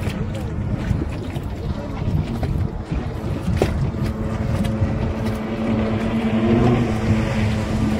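Speedboat out at sea off Sindhudurg, a steady droning engine over rushing water and wind, with engine tone rising toward the end and voices faintly mixed in.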